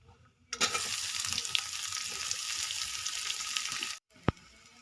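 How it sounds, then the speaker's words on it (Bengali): Chopped onion dropped into hot mustard oil with fried whole cumin bursts into a loud, steady sizzle that hisses for several seconds, then cuts off abruptly, followed by a single sharp clink. "দিয়ে দেব পেঁয়াজ কুচি"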